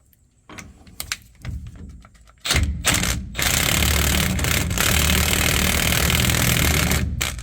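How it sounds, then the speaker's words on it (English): An impact wrench drives a pinion nut onto a Toyota truck differential. Some tapping and handling noises come first, then a close, loud, sustained hammering buzz that runs steadily for several seconds. "I'm going to go ahead and start the nut and use my impact to drive it on."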